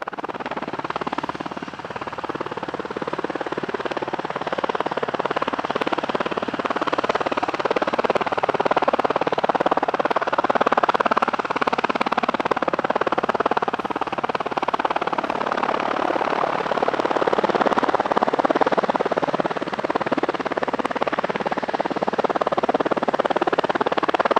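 PZL W-3 Sokol search and rescue helicopter at an airshow, a steady broadband rotor and turbine roar held at fairly even loudness for the whole stretch, no voices over it.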